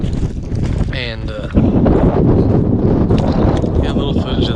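Strong wind buffets the microphone outdoors on a farm during tillage and dirt work, a loud continuous roar with gusts swelling throughout.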